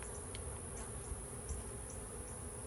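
Bees buzzing around a nuc hive taken down from a tree, a faint, continuous hum with a few brief passes of individual bees, no voices.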